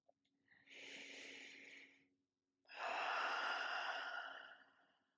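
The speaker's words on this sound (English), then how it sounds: "taking a cleansing breath." Two long, audible breaths during a yin yoga class, a soft sighing inhale followed by a fuller cleansing exhale, close and breathy against a faint steady hum.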